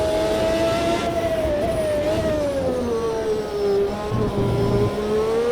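The sim engine of Senna's McLaren MP4/6 in Brazil screams at high revs in a steady whine, dipping and climbing in pitch through quick gear shifts and easing into a lower, descending tone.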